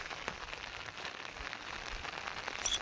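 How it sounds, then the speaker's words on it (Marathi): Steady rain pours down outdoors over a grassy grazing area, a continuous dense hiss of drops with no voices and no pauses. "बघा पाऊस अजूनही चालूच आहे"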